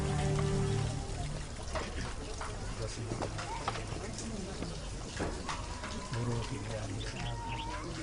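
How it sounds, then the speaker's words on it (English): Water from the Nile at the source of the Blue Nile in Ethiopia is poured into a container, a continuous splashing rush with people talking and birds calling in the background. "So a man kindly offers to fill my container for me."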